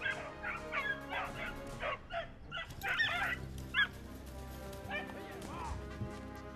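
Hunting dogs yip, bark and whimper while tracking rabbits on a rocky, brushy trail in the Pyrenees. Several short, close, moderately loud calls come over steady outdoor background, with someone talking between them.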